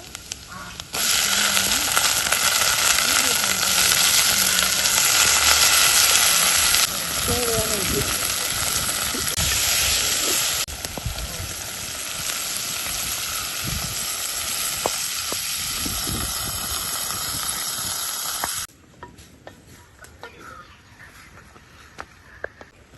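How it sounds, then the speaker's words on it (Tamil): Banana stem pieces sizzle loudly in a hot pan, a bright continuous hiss with scraping stirs, later easing down before the frying cuts off and quieter kitchen sounds remain; a voice speaks at times. "வாழைத்தண்டு போடுறேன்"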